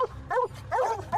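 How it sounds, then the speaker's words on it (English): Dogs harassing a cougar with constant barking: a quick run of close, loud, yelping barks in steady succession. "the dogs that keep harassing it with loud and constant barking"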